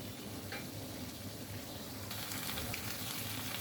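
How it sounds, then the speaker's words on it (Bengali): Small shrimp and pointed gourd sauté in a pan, giving a steady, even sizzle throughout with no voices and no distinct stirring strokes. "ভালো করে কষিয়ে নেব"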